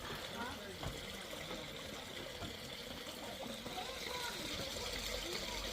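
Water flowing in a stream in a park, a steady trickling rush heard throughout, with people talking over it.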